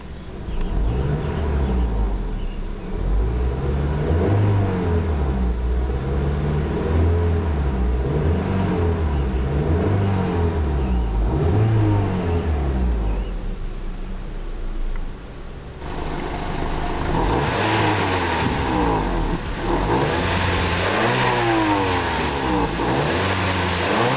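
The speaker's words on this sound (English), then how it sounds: "we'll see how this car sounds" A 2008 Honda Civic Type S with a 1.8-litre i-VTEC engine revs repeatedly, loud and close, its pitch rising and falling in surges, with a brief dip before climbing to higher, harsher revs.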